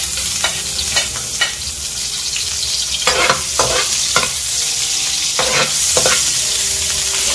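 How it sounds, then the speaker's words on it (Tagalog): Chopped onion sautés in hot oil in a pan for ginisang monggo, a steady close sizzle broken by repeated scraping stirs of a utensil against the pan. "Nalagay na natin ang ating sibuyas."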